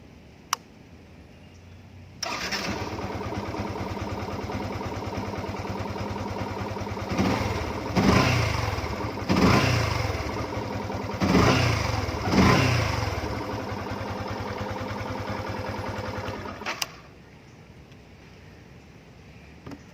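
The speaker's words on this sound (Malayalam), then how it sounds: "നമുക്ക് എൻജിനെ ഒന്ന് സ്റ്റാർട്ട് ചെയ്ത് കാണാം" A Yamaha FZ-S motorcycle is self-started and its engine catches, then idles steadily nearby. It is revved several times in quick bursts before being switched off, leaving quiet.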